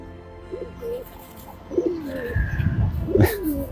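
Pet birds give soft pigeon-like coos up close: a few short throaty calls, then a louder cluster of cooing near the end, with no talking.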